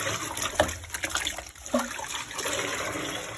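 Cold tap water runs and splashes over a freshly dyed synthetic wig as it is rinsed. Close trickling and splattering with a couple of sharper splashes, fairly quiet, with no clear talking.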